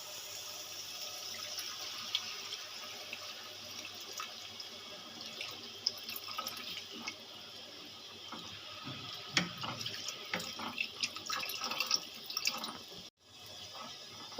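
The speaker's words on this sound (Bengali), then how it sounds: "পরিমাণ মতন জল দিয়ে দিলাম" Water poured from a tap into a pan of papad curry in a home kitchen, a steady broadband splashing and running flow lasting most of the stretch, with a few small clinks and drips near the end before it stops.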